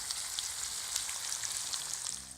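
Hybrid striper and striped bass fillets frying together in a pan give a steady, dense sizzle with crackling pops, close and unbroken for the whole stretch.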